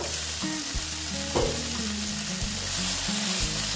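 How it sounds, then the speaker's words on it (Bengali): Okra frying in a covered pan at home, a steady dense sizzle throughout with a brief louder clink or stir midway, close and without talking. "মোটামুটি আমার ঢেঁড়সটা ভাজা হয়ে গেছে"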